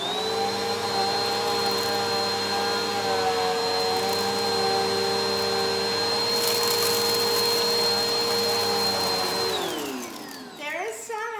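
A Bissell PowerForce Helix Turbo vacuum cleaner runs on level 3 with a loud, steady motor whine and hum, then winds down as it switches off near the end.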